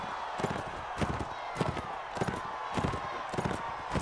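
Horse hooves galloping in Mount & Blade Warband, a steady repeating clip-clop rhythm of fairly close, moderately loud beats running through the whole stretch over a constant game background.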